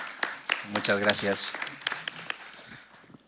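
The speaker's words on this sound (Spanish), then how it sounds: "Pido un aplauso para él." Audience applause at a legal training seminar greeting a speaker, a doctoral law student, heard as a light scatter of claps running under a voice speaking briefly at close range.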